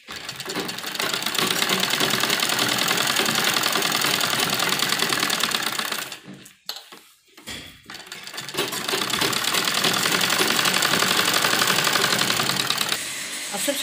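A sewing machine stitches a narrow pressed seam along the edge of a net blouse, running in a fast, even mechanical rattle up close, breaking off briefly in the middle before starting up again and running on.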